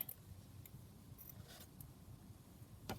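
Scissors trimming a piece off vintage paper ephemera at a craft table, heard as a few soft, quiet snips spread apart over a low background hush.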